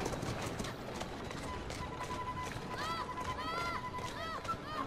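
A horse gallops in the video game Assassin's Creed Syndicate, with quick rhythmic hoofbeats running under a voice and busy game sounds.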